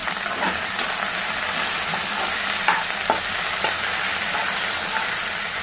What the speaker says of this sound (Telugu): ఇప్పుడు మనం పసుపు ఉప్పు వేసాము బాగా కలపాలి